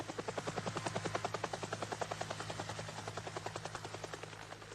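A helicopter flies toward the Mount Erebus crash site in Antarctica, its rotor blades thudding in a rapid, even rhythm over a steady engine hum, moderately distant and alone.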